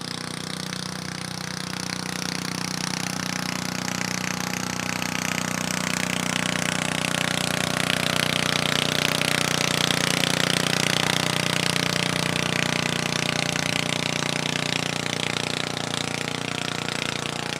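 A garden tractor engine roars continuously at a truck and tractor pull, a loud, sustained droning rasp that swells slightly midway and holds steady without any audible talking.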